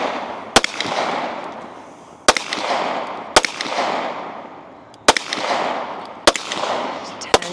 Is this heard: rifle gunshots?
yes